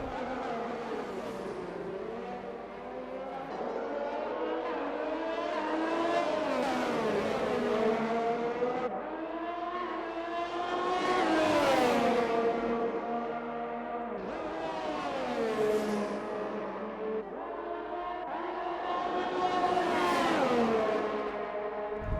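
Ferrari race car engines roar in a sim racing game at a Belgium round, several cars running close together, their revs climbing and dropping in repeated loud sweeps as they shift and brake through corners.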